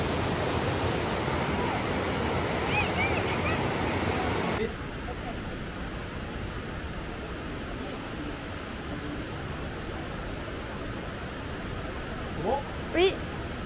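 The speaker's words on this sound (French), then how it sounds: "La cascade après la luge." A waterfall in central-to-southern Vietnam, seen after a toboggan ride, gives a steady broad rushing roar that drops to a softer, more distant wash partway through, with brief faint voices near the end.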